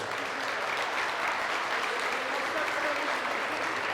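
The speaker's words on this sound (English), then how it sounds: "Give them a round of applause, please." Dense, steady round of audience applause at a fundraiser event at The Shipyards in Lorain, Ohio, filling the whole stretch with broadband clapping at even loudness.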